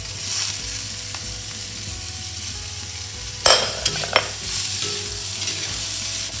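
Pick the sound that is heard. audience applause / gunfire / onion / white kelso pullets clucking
onion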